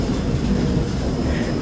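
Steady low rumble of a train rolling along rails, continuous and fairly loud throughout, with no talking.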